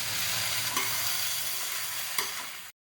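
Okra sabzi being stirred in a pan after coriander powder is added: a steady soft sizzle with two brief scrape clicks of the spoon, close and alone, cutting off abruptly at the end.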